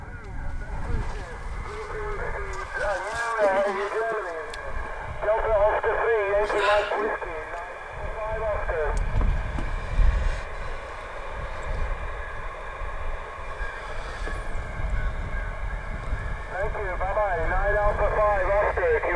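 A fading HF amateur radio signal from a Croatian station, heard through a portable receiver, with warbling voice tones that swell and sink in a steady hiss of static, loud and continuous throughout.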